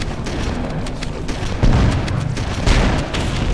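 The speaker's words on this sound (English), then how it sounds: "Random grenade just went off." A grenade detonates during a Halo 1 firefight on Legendary in The Library, a heavy booming blast amid ongoing gunfire, with a second loud burst following shortly after, close and dense throughout.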